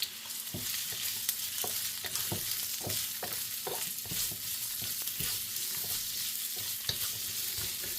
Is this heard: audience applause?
no